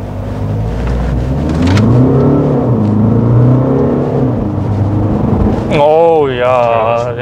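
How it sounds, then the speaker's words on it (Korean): Volkswagen Arteon fastback sedan engine accelerating hard from a standstill, a loud rising mechanical drone heard from inside the cabin, with a person talking over it before a sharp higher whine near the end. "정지시에 급가속하는 건 엔진 소음이 이게 들리긴 어쩔 수 없이 들리지만"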